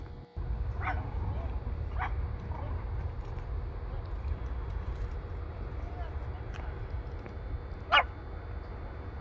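A Pomeranian puppy gives several short, sharp yips and whimpers spaced a second or two apart, fairly faint over a low rumble of background noise, with one louder yelp near the end.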